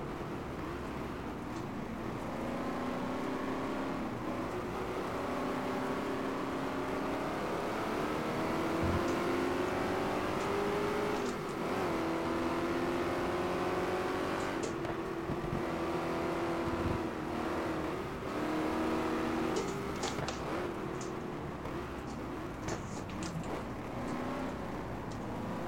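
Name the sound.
Ford Mustang race car engine in GT Legends video game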